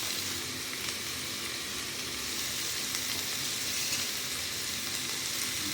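Shredded cabbage and grated carrot fry in hot oil in a wok, giving a loud, continuous close-up sizzle that holds steady with no talking.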